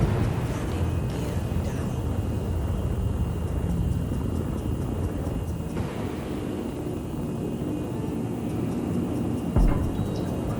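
A spacecraft in Star Citizen cruises under cruise control with landing gear down, a loud steady engine drone and rumble holding constant throughout, with faint soft ticks and no talking.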